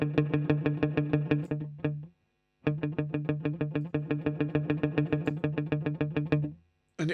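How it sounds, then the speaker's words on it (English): An electric guitar through a Mvave Mini Universe pedal plays a rhythmic, evenly pulsed chordal riff in two phrases with a short gap. Each phrase ends in a brief, quickly fading reverb tail. "This also has a trail mode. So I can just have reverb."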